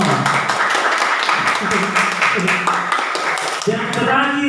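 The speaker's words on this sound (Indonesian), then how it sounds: "Tepuk tangan juga untuk kelompok mawar" Secondary school students in a classroom clap for a group, a steady rattle of many hands filling the room, with a voice speaking over it near the end.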